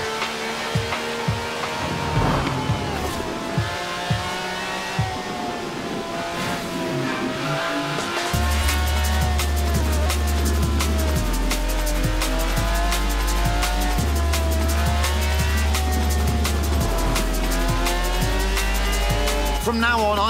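V12 car with over 750 horsepower in Forza Horizon 4 revs hard with bursts of tire squeal over a steady game music bed, the engine loud and close through the second half.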